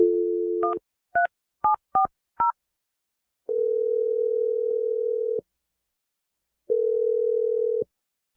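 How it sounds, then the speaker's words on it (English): A telephone number is dialed as a quick series of about six touch-tone beeps, followed by two long steady ringback tones with a pause between, clear and close with no talking. "I'm going to dial Adam's phone number right now."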